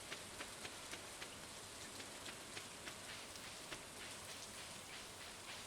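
Steady rain falls in a video game, a soft, even hiss with scattered droplet patter throughout, faint and continuous with no voices.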